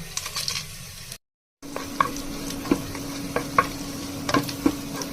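Cinnamon, cardamom and bay leaves dropped into hot oil with chopped onions while cooking vegetable khichuri, giving a soft steady sizzle broken by a brief dropout and then scattered stirring clinks and scrapes.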